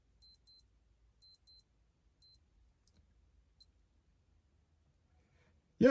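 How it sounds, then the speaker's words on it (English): A G-Shock GG1000-1A3 wristwatch alarm gives thin, high electronic beeps in short pairs and singles, quiet and close, followed by a few faint clicks and then a voice at the very end. "That's how the alarm sounds."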